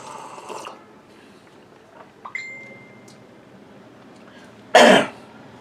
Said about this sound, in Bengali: গলা একটু না ভিজালে কাশিটা চলে আসে কোভিডের কারণে।